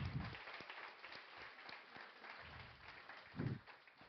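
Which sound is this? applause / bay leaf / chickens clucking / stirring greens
applause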